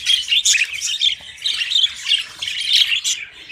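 Pet budgies squawk and chirp inside a cage in a dense, continuous chatter of shrill calls, loud and close, with no talking.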